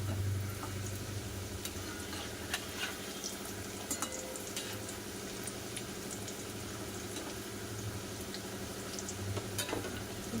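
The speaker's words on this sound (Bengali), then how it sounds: "আমি কিন্তু হাই ফ্লেমে দেবো না, মিডিয়াম ফ্লেমে ভাজাটা করে নেবো" Braided flour sweets frying in oil over a medium flame give a steady, continuous sizzle and crackle throughout, with a few sharper pops and light clinks mixed in.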